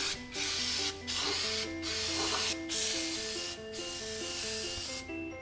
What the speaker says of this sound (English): when we spray this stuff, we're going to be spraying it evenly among everything that's on the body of the car